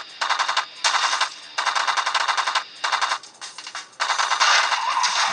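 Rapid automatic fire from an assault rifle in a mobile zombie shooter game, coming in loud sustained bursts of roughly a second each with brief gaps between them, and no talking.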